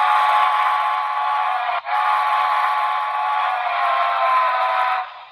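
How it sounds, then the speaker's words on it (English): A BLI 2-8-0 model steam locomotive sounds a long, steady, chord-like steam whistle, loud and close, with a brief dip near the middle before it continues and then stops. "It's got a long whistle."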